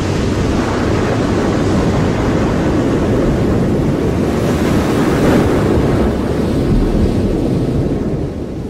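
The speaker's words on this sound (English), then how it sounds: "Breaking up as it falls, an entire mountainside plunges into the sea at the speed of an express train." Heavy roaring rush of surf and churning water as an entire mountainside breaks apart and plunges into the sea, a dense continuous wash of rumble and hiss, loud and unbroken throughout.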